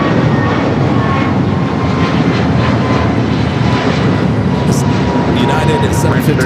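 A passenger jet in Star Wars livery, bound for SFO, takes off at LAX with a loud, steady engine roar that fills the air nearby and holds without a break.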